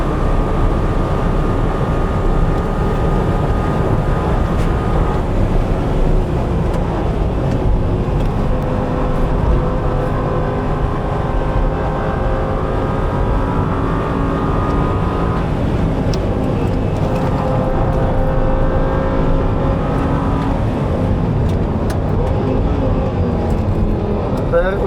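An Audi R8 GT3 racecar, built in a home shed, drones loudly and continuously at track speed, its engine note rising and dipping through gear shifts with occasionally flaring revs on downshifts.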